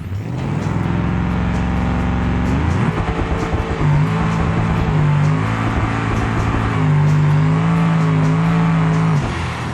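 A twin-turbo Gavril Grand Marshal makes a no-prep drag run in the BeamNG video game, its engine roaring loud and near as it revs and climbs in pitch through the gear changes.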